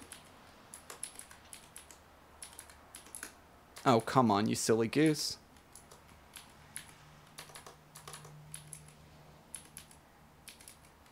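Rapid typing on a computer keyboard, clicky keystrokes in quick bursts through the clip, with a short stretch where someone speaks over it.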